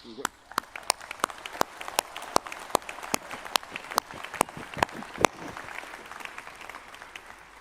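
A graduation ceremony audience claps steadily, a dense patter of many hands with sharp individual claps standing out, sustained throughout without cheering.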